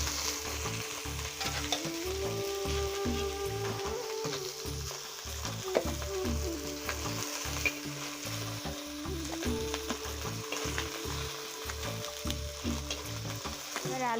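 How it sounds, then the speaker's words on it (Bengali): Bata fish fry in hot oil in a pan, giving a constant close sizzle with a few scraping stirs and no voices. "এবারে মাছ ভাজা তুলে নেব।"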